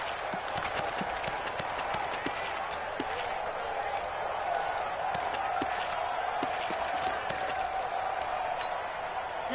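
Steady crowd roar with scattered cheers in an American football video game before a big third down, a continuous wash of stadium noise running the whole time with sharp peaks on top.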